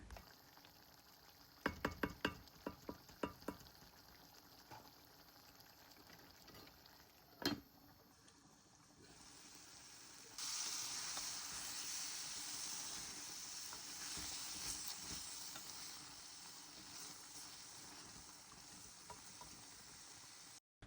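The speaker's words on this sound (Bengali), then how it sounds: "বেশ কিছুক্ষণ পানি দিয়ে এটাকে অনেকক্ষণ যাবত কষিয়ে রান্না করব" Frozen flat beans and potatoes simmer and sizzle in a pan with water, a steady soft hiss and bubbling that swells louder midway, preceded by a few sharp utensil clinks against the pan.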